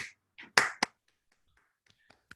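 Participants on a video call give scattered applause: a few sharp claps and snaps, bursty and uneven, quickly thinning to isolated faint taps amid near silence.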